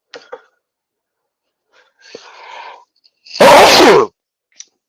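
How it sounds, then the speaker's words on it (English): One loud sneeze bursts out after a few faint breaths and small throat noises, close and sudden, followed by a tiny click. "All of a sudden got a sneeze."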